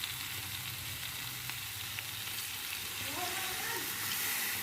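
Water poured into a hot frying pan sizzles steadily and loudly throughout, with a constant hiss and some stirring movement, no voices.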